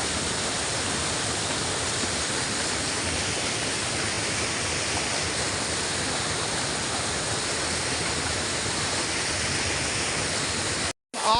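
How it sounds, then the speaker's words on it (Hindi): A Himalayan mountain-village waterfall in Uttarakhand roars in a steady, loud broadband rush. The flow continues unbroken for the whole stretch apart from a brief dropout near the end, with no voices. "पर्दे तोड़ दिए तो पूरा झरना दिखाई देने लगा।"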